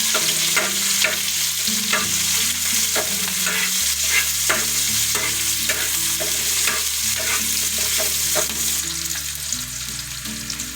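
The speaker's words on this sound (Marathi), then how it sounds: "इथे आपण असं लांब असा कांदा कापून घेतलेला आहे ते टाकणार आहोत मस्त कांदा करून घ्यायचा आहे" Long-sliced onions fry in a pan for an onion-tomato chutney, a loud continuous sizzle broken by frequent rhythmic scrapes and taps of a spatula stirring, with a low steady hum beneath.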